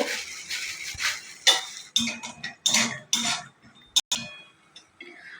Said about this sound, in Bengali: বড়িটা ভালো করে নাড়িয়ে চাড়িয়ে লাল করে ভেজে নেব